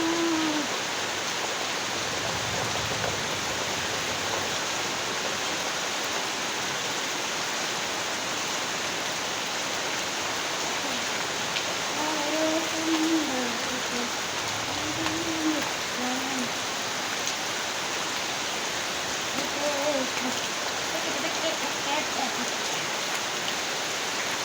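Rain falls steadily in a soft, faint, continuous hiss, with a few quiet tonal calls or voices rising now and then in the background.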